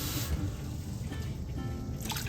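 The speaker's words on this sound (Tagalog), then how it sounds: "Ayan, lagay na po ko ng tubig." Water poured into a cooking pot for chicken sotanghon soup, a steady close splashing stream with a brief pause, heard alone without talk.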